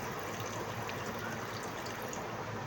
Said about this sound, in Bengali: আবারও একটু জল অ্যাড করলাম